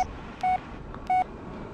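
Phone text-message alert in the video game Blair Witch: two short, identical electronic beeps about half a second apart, each clear and moderately loud over a quiet, low background hum, with no talking.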